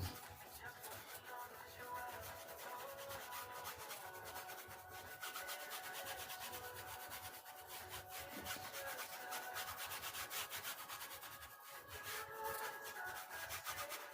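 Oil paint with white is rubbed onto canvas, a steady dry scrubbing that runs without a break for the whole stretch, over a faint tonal background.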